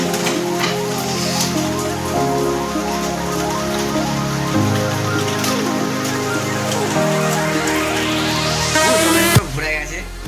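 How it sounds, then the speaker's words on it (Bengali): Light, steady rain pattering on a surface outdoors, a continuous soft drizzle that stays even and close throughout, with faint tonal background sounds layered underneath and a brief shift near the end. "আর কি বৃষ্টি হচ্ছে আমি দেখাচ্ছি ভাই। টিপ টিপ করে বৃষ্টি,"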